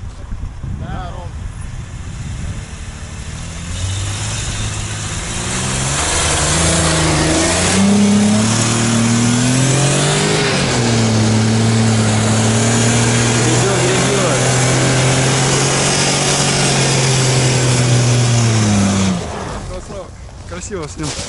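A Mercedes ML SUV's engine revs hard and climbs for a long stretch while it works across a diagonal axle-twist test, loud and close, with people talking over it.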